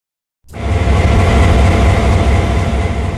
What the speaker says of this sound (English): Known as a GP38-2, it packs an efficient 16-cylinder diesel-electric motor